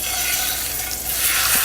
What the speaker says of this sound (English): it's just going to sizzle in the pan like this